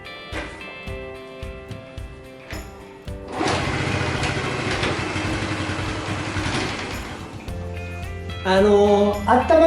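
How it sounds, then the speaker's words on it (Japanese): A Honda Chaly motorcycle engine fitted with a power filter air cleaner, heard after a run of clicks and knocks: it catches and settles into a loud, even idle, then rises sharply near the end as it is revved. "ちょっと一回エンジンかけます。"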